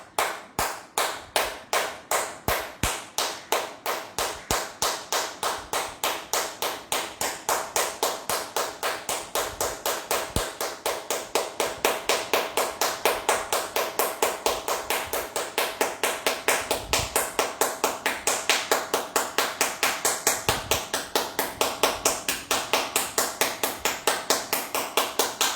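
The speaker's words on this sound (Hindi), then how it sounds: "सातवीं क्रिया, ताली बजाना।" Forceful hand clapping done as a yoga exercise, a fast, steady stream of sharp, close claps repeating evenly without a break.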